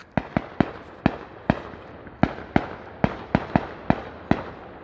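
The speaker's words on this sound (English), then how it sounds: "those are like the fireworks that you light off in the middle of the street and they crackle" Memorial Day fireworks and street firecrackers going off as a string of sharp, loud bangs, about a dozen in under five seconds, each followed by a short crackling decay, with no talk.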